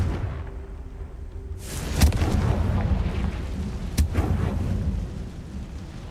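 A Confringo fire-blast spell explodes in the Hogwarts Legacy video game, a sharp boom at about two seconds followed by a second burst near four seconds, over a steady rumble of game ambience.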